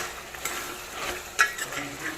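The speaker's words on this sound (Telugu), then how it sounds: "ఇప్పుడు వెజిటేబుల్స్ అన్నీ వేసేయాలి. వెజిటేబుల్ వచ్చి టమాటాలు 2, బంగాళదుంపలు 2, ఒక దోసకాయ ఆఫ్ వేసాను, మామిడికాయ ఆఫ్ అనమాట." Chopped tomatoes, potatoes, cucumber and raw mango go into a hot pan for a curry, giving a continuous soft sizzle with scraping stirs and a sharp utensil clack against the pan, close up without speech.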